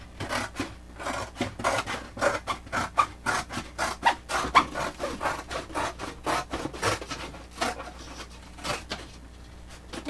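Cutting through a thin cardboard USPS Priority shipping box, a steady run of close, rhythmic rasping strokes repeating about twice per second throughout, with no talking.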